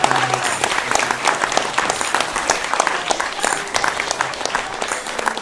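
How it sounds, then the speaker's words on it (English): Sustained audience applause at a founder showcase, many hands clapping in a dense, steady wash at fairly close range, holding evenly throughout with no talk over it. "A big round of applause for the students."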